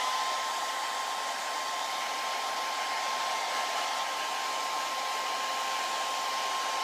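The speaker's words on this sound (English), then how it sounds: "Now I like to blow dry just to get any extra fibers out of there." A hair dryer blows steadily up close on eyelashes coated with fiber mascara, a constant loud whooshing hum with a faint steady whine and no voices for the whole stretch.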